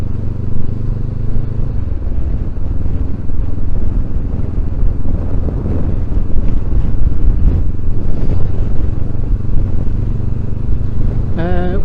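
Steady, heavy wind buffeting the microphone with a low roar throughout while riding a 2023 Honda CB500X motorcycle at about 20 mph, over a faint engine hum, loud and continuous with no speech.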